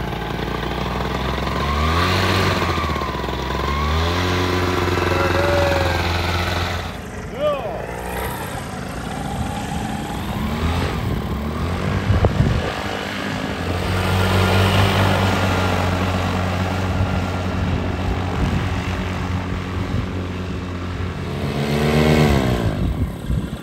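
A small propeller airplane's engine throttles up during a flying lesson for a wheelchair user, a steady droning rumble that rises in pitch, with people talking over it throughout.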